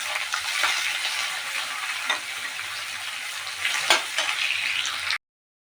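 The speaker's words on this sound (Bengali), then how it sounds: "পেঁয়াজগুলো একটু ভালো করে ভেজে নিতে হবে।" Onions frying in hot oil with chillies in a home kitchen pan, a steady close sizzle with a few sharper crackles and stirring scrapes, no talk.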